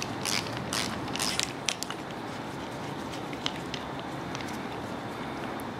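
A socket wrench ratchets as a switch is removed from a 5.3L LS LM7 V8 engine, a close burst of quick clicking strokes followed by a few sparse ticks against steady background noise.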